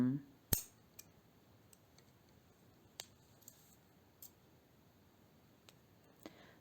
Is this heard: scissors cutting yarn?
yes